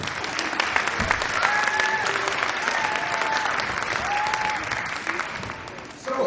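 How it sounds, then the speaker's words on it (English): An audience applauds a school beginning band at a demo night, a dense, steady wash of clapping that stays loud for several seconds, with a few faint voices mixed in. "Big round of applause for our beginning band."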